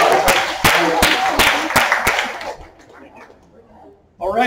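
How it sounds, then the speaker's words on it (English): A board meeting crowd gives a short round of applause for the code enforcement officer, sharp claps ringing out for about two and a half seconds before fading into quiet room noise, then a voice starts. "Can we get a round of applause for Jordan Hodge?"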